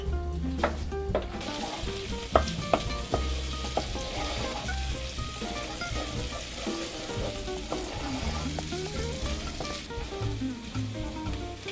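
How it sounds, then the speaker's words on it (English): Onions and garlic fry in a pan while tomato pasta sauce is made, giving a steady close sizzle with frequent small pops and stirring scrapes throughout, no voices. "once the onions and the garlic kind of started cooking"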